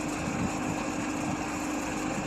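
A boat engine runs at half throttle, a steady high-pitched drone with water and wind noise, fairly faint and unbroken throughout.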